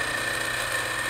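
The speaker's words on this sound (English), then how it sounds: "You have to just let the wheel work its way up." A bench grinding wheel sharpening an HSS lathe tool bit, a steady close whirring hum with a constant high whine and a continuous abrasive hiss.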